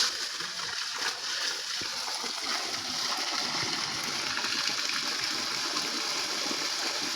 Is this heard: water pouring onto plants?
yes